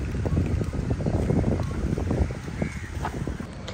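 Seaside wind blows at a beach, buffeting the microphone in loud, uneven low-frequency gusts that continue throughout.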